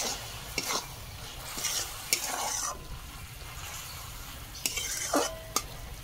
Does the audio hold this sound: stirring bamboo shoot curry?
yes